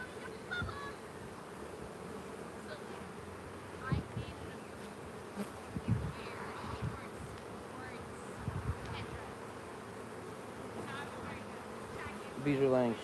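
Honeybees drone around an open hive during an inspection, a steady, fairly soft buzzing that continues throughout, with a few louder passes of individual bees near the microphone.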